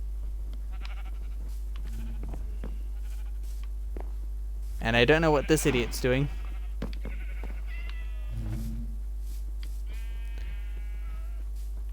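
In the Minecraft video game, sheep let out a loud wavering bleat midway, then a shorter fainter one a few seconds later, over a steady low hum with someone talking around them.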